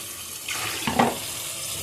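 Water poured into a pot of cooking mixed vegetables and potato for sambar, a short splashing burst of about a second rising over a steady background hiss.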